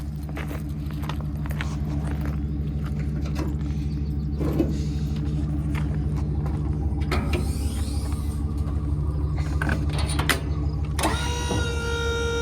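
Vehicle backing a tilted trailer toward its spot, with a steady engine idle and low rumble throughout, close by, and faint mechanical clunks and creaks of the trailer on top.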